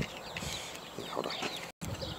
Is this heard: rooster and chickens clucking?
yes